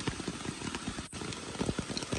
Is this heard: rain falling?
yes